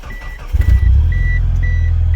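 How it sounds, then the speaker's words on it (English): A car engine cranks briefly and catches, then settles into a steady, loud low idle, with a faint repeating high beep over the running engine. "let's start the car."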